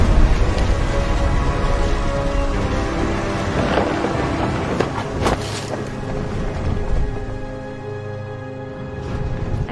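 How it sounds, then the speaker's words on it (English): Thunder rolls through a steady rain wash in the video game What Remains of Edith Finch, a loud dense rumble with sharper cracks around the middle, sustained and close throughout with no talking. "The thunder sounded much too close and full of angry power"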